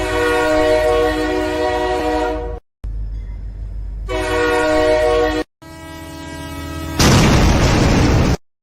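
Train sound effect: a loud, close horn blast with a rich tonal chord that cuts out, resumes twice, and then gives way to a harsh rumbling roar of passing rail cars.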